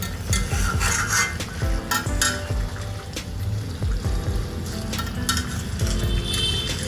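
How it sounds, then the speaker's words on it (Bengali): Fish curry being stirred in a pan in a Bengali home kitchen, with steady scraping and rubbing of a spoon against the pan over a soft sizzle. The stirring continues throughout without any talk. "ভালো করে একটু নেড়ে নেব"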